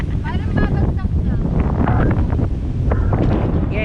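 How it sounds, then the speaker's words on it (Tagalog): Strong wind buffets the microphone at a hillside motocross event campsite, a continuous loud rumble with people talking underneath it. "dire-diretso yung hangin eh"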